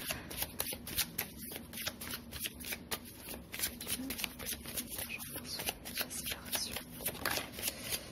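Tarot cards are shuffled steadily and continuously, a close, dense riffling and slapping of the deck that runs for several seconds without any talking.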